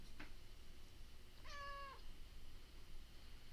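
A single clear cat meow, drawn out for about half a second, rises over steady room noise after a faint brief sound at the start. Nobody speaks.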